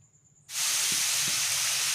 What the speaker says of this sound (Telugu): ఇప్పుడు అందులోనే కొంచెం ఆయిల్ వేసి మనం కట్ చేసి పెట్టుకున్న ఆనియన్స్ అందులో యాడ్ చేసి ఉల్లిపాయలు కొంచెం బాగా మగ్గే వరకు వేయించుకోవాలి